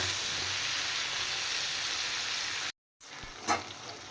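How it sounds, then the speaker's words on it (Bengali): Potatoes and eggplant seasoned with turmeric and salt fry in oil with a steady close hiss and sizzle, which cuts out briefly before returning more softly with a faint stir. "এবার আলু বেগুন ফ্রাই করে নেব"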